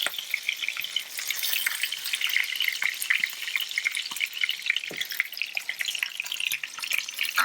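Oil popping and crackling around meatballs frying in a pan, a steady dense sizzle with frequent sharp pops spread through the whole stretch, close and fairly loud, no voices.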